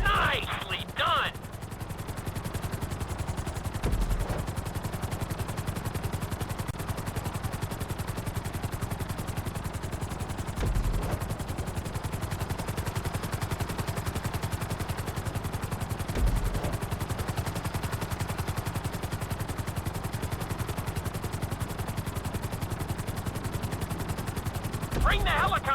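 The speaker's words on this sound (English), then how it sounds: "Bring the helicopter down gently onto the helipad." Helicopter in the GTA V flight school video game, a dense continuous rotor and engine roar throughout with a few brief clicks and bursts at intervals, loud and steady.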